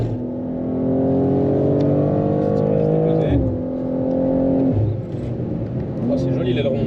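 A BMW M2 lapping the Le Mans circuit, heard from inside as a steady engine drone that drops in pitch under braking and then climbs again, with people talking over it.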